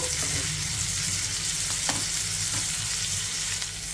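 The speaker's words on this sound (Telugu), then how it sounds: "ఇప్పుడు ఈ ఉల్లిపాయ ముక్కల్ని జస్ట్ ఒక 2 నిమిషాలు ఇలా కలుపుకుంటూ ఫ్రై చేసుకోవాలి." Chopped onions fry in a pan with curry leaves, giving a steady close sizzle with light scraping taps as they are stirred.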